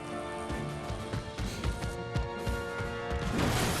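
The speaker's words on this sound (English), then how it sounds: "I smashed the TARDIS." In the video game Knack, the character Knack smashes a TARDIS, producing a dense burst of crashing and breaking impacts amid game music and effects, moderately loud throughout.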